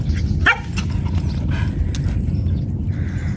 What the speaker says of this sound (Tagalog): At ayan po yung ating mga aso.